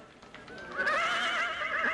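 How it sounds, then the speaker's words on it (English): A horse's whinny rises and wavers for over a second, loud and close, used as a bucking bronco sound effect in a rodeo grandstand scene. "This next layer is the cowboy and the bucking bronco."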